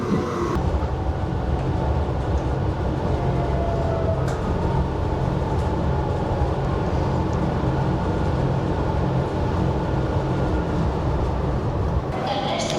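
A train in Spain rumbles along with a steady, loud, continuous roar of wheels and carriage noise from inside or close by, holding a constant level for the whole stretch.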